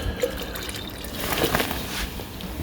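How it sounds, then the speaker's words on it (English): Liquid solution poured into a beaker already holding rinse water during gold recovery, a soft close trickle and splash lasting a couple of seconds. "So I'm just going to pour this in."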